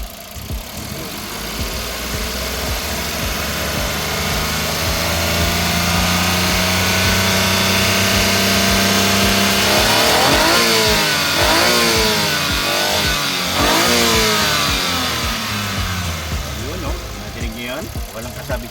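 A Suzuki DA17V 4x2 Tiptronic AGS engine runs right after a spark plug change, idling steadily and then revving up and down in several quick rises over the last half, loud and close, with a person talking over it.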